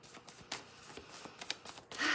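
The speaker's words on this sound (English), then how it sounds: "Giving these cards a good shuffle." Tarot cards are shuffled close by in a string of soft riffling slaps and flutters, ending in a longer, louder burst, with no talking.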